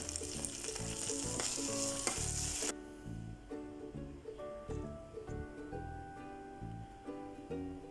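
Garlic cloves with green chillies and curry leaves sautéing in a pan, a bright steady sizzle with stirring scrapes that drops to a softer, patchier frying crackle partway through.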